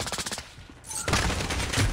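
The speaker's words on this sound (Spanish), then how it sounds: "Escucho los tiros." Gunfire in a shooter video game sounds as a rapid burst of repeated shots, followed by a louder, denser blast of fire, all close and without speech.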